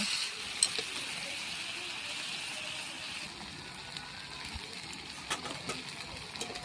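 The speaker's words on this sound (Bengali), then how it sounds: "সবজিটা দিয়ে ভালো করে কষিয়ে নেব।" Mixed vegetables sautéing in a pan for a vegetarian dish, giving a soft, steady sizzling hiss at moderate distance, with a few faint clinks of stirring scattered through.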